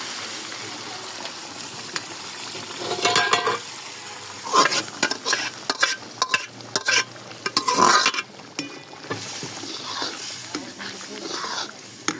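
Masala frying in a pan as chana dal and onion go in, a steady loud sizzle with bursts of stirring and scraping, close up, with no voice over it.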